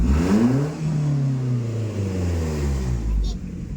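A Suzuki APV with a valvetronic racing exhaust revs loudly, its engine note climbing and falling in deep harmonic sweeps close by while people talk over it.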